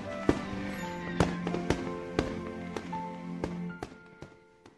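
Fireworks at an annual Independence Day show crackle and boom in a string of about a dozen sharp, distant bursts spaced irregularly, each ringing out and decaying, with a faint background hum.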